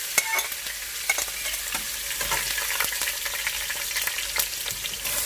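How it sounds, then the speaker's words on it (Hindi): Onions sizzle and crackle steadily in a hot pan, a constant frying hiss with scattered pops and occasional stirring, close by. "प्याज को थोड़ा सा गोल्डन ब्राउन होने तक फ्राई करेंगे।"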